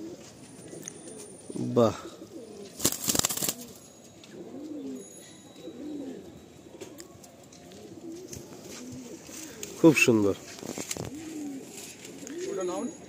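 Kolkata old-line Giribaj pigeons coo softly and repeatedly in a loft, a low steady burbling under intermittent speech, with a couple of louder bursts of wing flutter or handling noise.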